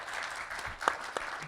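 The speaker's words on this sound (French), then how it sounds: "Stéphane Moïsakis, que je vous demande d'applaudir bien fort." Audience applause at a Mad Max film marathon event, steady clapping from a crowd with a couple of sharper claps standing out near the end.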